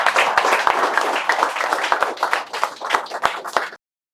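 A small group claps in a sendoff welcoming Spoken English learners, the claps loud and close, dense and uneven with sharper single slaps standing out, then stopping abruptly near the end.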